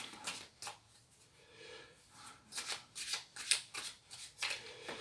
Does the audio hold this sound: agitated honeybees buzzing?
no